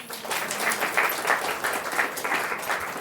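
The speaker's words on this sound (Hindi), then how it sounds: "ताली तो बजा।" An audience at a Brahma Kumaris class in Torwa, Bilaspur claps steadily, a full, continuous round of applause from a room full of people with no voices over it.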